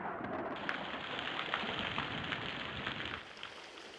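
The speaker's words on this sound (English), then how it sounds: "Oh, it's pouring rain." Steady, dense rainfall pours down with a constant hiss, loud and close, easing slightly near the end.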